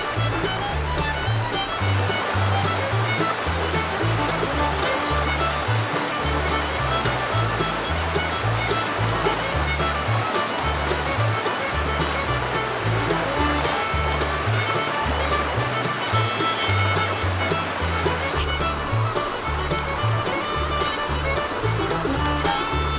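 A wide mountain river in Linville Gorge rushes steadily and loudly, a continuous churning flow of water over rocks with no break from start to finish.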